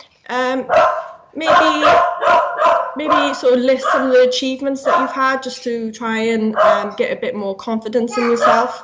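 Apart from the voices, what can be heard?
dog barking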